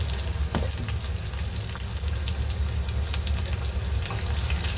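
Garlic frying in hot oil with asafoetida for a spinach curry, a loud, steady crackling sizzle that continues without pause from start to finish.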